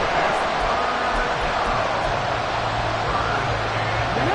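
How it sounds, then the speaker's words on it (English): Stadium crowd in a Madden football game, a dense steady roar of cheering filling the whole clip at even loudness, with no distinct voices standing out. "This crowd turning up the decibel level"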